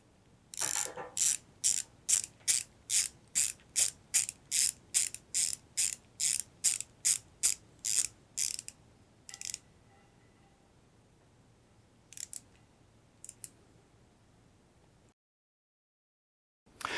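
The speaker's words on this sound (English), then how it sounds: "So let's go ahead and we'll bolt that pointer on." A ratchet or wrench clicks rapidly in a steady run of about twenty close, sharp strokes while a timing pointer is bolted onto an engine, followed by a few scattered metallic clicks and then silence.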